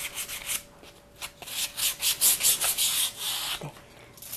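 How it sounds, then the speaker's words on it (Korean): Close, rhythmic scratchy strokes of sandpaper rubbing painted wood edges, speeding into a run of quick back-and-forth passes before stopping. "사포질을 해주세요."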